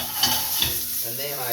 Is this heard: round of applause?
no